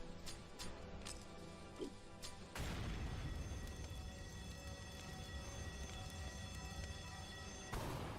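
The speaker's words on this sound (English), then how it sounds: "Flashbang." A flashbang grenade detonates in an animation, a sudden loud burst that jumps to a sustained harsh roaring wash with a high ringing tone, lasting several seconds before a second surge near the end.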